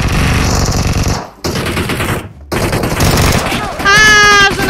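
Rapid bursts of automatic gunfire in PUBG Mobile, loud and close, broken by two brief silences before resuming, with a short electronic tone at the end.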